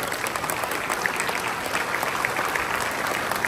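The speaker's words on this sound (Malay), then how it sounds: "kita bangun beramai-ramai memberikan standing ovation pada Yang Amat Berhormat Menteri Besar" A hall audience gives a standing ovation to the Johor Menteri Besar, producing dense, continuous applause at a steady moderate level for the whole stretch, with no voices.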